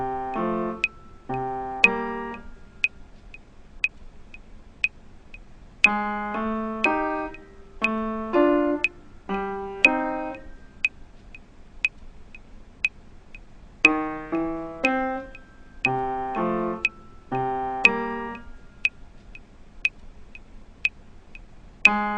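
A funk piano groove played slowly, with short chordal stabs in repeating clusters of bass notes and comping chords, set against a steady, high metronome click ticking throughout at an even pace, close and clear with no talking.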